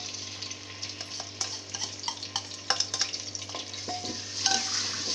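Ginger, garlic and green chilies frying in ghee in a handi pot, giving a steady low sizzle with scattered stirring scrapes and clinks, close and moderately loud, no talking.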